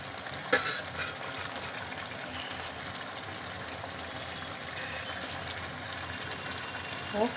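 Chicken curry is stir-fried in a pan with a continuous close sizzle, while a spoon stirs and scrapes through the masala at an even, steady volume.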